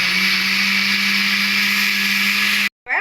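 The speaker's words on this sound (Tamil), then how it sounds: "நான் பிளெண்டர் பண்ண போகிறேன்" A kitchen blender grinds a chocolate ice cream mixture with a loud, steady whirring drone that cuts off abruptly near the end, no voices.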